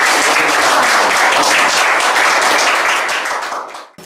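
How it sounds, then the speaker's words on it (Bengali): Loud, dense applause from an audience honoring newly recruited Bangladesh Army soldiers, steady clapping for about three and a half seconds before tapering off at the end. "যারা চাকরি পেয়েছে তাদের জন্য একটা করতালি দিয়ে"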